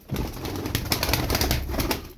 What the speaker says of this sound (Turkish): Kuşlar bir kanatlarını ısındırsınlar.